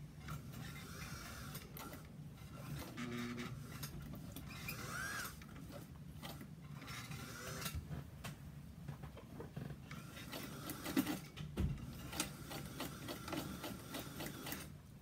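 Sewing machine stitching a quarter-inch seam on a fabric bowl cozy, a quiet close mechanical whir with ticking needle strokes that slows and stops intermittently, with light handling clicks.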